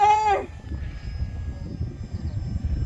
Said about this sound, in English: First flight, AeroScout. Pull back. And we're in the air.